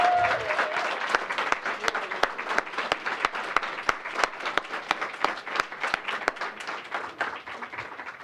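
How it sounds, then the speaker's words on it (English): Awards ceremony audience applauding, with steady clapping and distinct individual claps standing out in a loud, continuous round that slowly thins toward the end. "A Bhayana round of applause."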